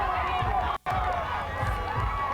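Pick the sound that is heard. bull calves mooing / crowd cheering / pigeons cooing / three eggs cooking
crowd cheering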